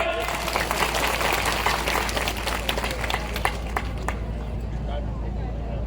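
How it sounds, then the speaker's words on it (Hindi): A large crowd at a BJP membership drive rally in Mehgaon, Bhind, claps loudly and densely, with crowd murmur mixed in and the applause tapering off toward the end. "अगर सही है तो ताली बजाओ।"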